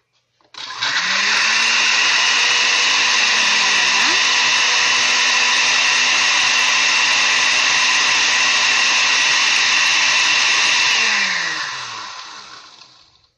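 A kitchen blender grinds Maria cookies into crumbs, a loud, steady motor whir that starts abruptly, holds for about ten seconds and then winds down as it is switched off.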